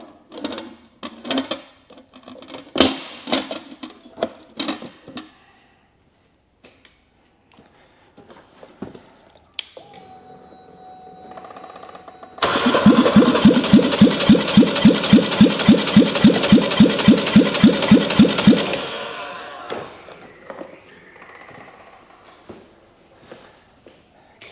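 Polaris Sportsman 850 ATV engine cranking over on the starter during a compression test, a rapid even chugging that lasts about six seconds, loud and near, with scattered handling clatter before and after.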